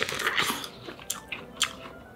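Crisp, juicy crunches of biting into sweet supersweet corn on the cob, followed by softer chewing with a few sharp bites, close to the mic and without talk.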